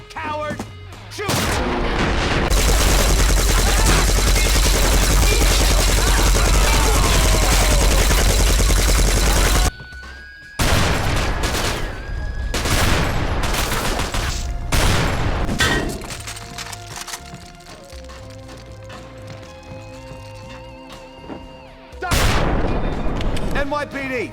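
Rapid gunfire and heavy blasts fill a combat scene in a Max Payne 2 mod video game, a loud, dense barrage that runs almost without a break, then returns in shorter bursts mixed with booms.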